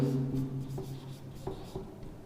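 Chalk or marker scratching out numbers on a board in a Class 7 math lesson, a few short, close strokes and taps against a faint steady hum.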